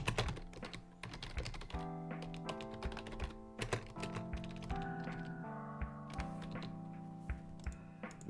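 Quick, uneven bursts of keystrokes on a computer keyboard, quiet and close, with short pauses between runs of typing and no talk.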